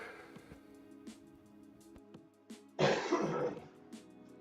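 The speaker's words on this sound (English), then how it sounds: "Nice little cough." A single throaty cough bursts out, loud and close, amid quiet room sounds with a few faint clicks.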